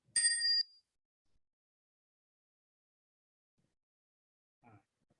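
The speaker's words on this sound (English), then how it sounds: "program the app to ring a bell sound at certain interval" A single clear bell-like chime from a mindfulness app rings at the start and fades, followed by long silence and a faint brief voice near the end.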